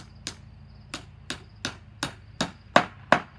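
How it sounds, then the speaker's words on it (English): A hammer drives a nail into lumber with eight sharp, evenly spaced strikes roughly every third of a second, close and distinct over a low background hum, the last blows landing slightly harder. "Grab the hammer, pound the nail."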